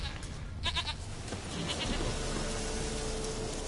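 A goat in Witcher 3 gives a short, clear bleat with a quavering pulse near the start, over steady game ambience and faint background noise.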